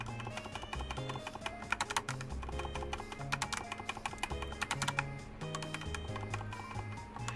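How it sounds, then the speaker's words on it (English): Steady rapid typing on a computer keyboard, clicking keys in quick irregular bursts close to the microphone, with game music playing along underneath. "I'm swapping over to using my keyboard, which is going to probably be a bit better for my hands"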